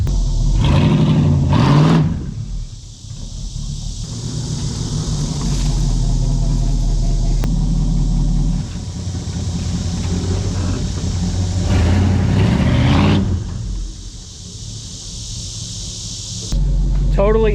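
A 1955 Plymouth with electric exhaust cutouts and an exhaust leak drives on the road: a loud, steady engine rumble swells into two throaty revving surges, one early and one near the end.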